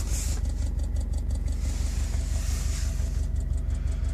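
An idling 2013 Subaru STI engine fitted with upgraded fuel injectors and rails runs with a steady, rapid ticking pulse over a low engine rumble, heard close and continuous with no talk.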